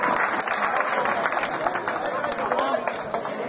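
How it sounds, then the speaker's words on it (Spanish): Audience applause for a group of young cooks at a Mother's Day celebration, dense clapping from a crowd with a voice speaking over it throughout. "Denme un aplauso."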